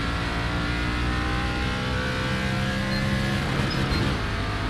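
A NASCAR race car roars at Talladega, its engine revving loud and steady throughout with a dense, continuous growl and no talk.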